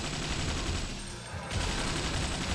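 Rapid gunfire from the top-down shooter game Alien Shooter 2 Reloaded, a dense continuous fusillade of loud automatic shots, briefly thinning near the middle before resuming at full intensity, with no talk over it.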